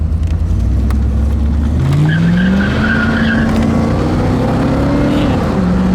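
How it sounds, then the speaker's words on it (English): A 1989 Chevrolet IROC-Z convertible brakes hard, tires squealing loudly in a long skid with the engine note shifting underneath, close and continuous with no talk. "We just hit the brakes hard right here, and this is exactly how the car stopped."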